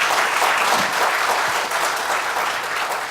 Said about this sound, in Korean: 감사의 박수 한번 보내주시면 고맙겠습니다